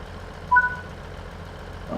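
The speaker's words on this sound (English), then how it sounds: "I'm going to start closing the doors." Warning beeps on an EMT Class 158 train in Train Sim World 5 as the doors are set to close, two short high tones near together over a low idling engine hum, followed by a faint thud.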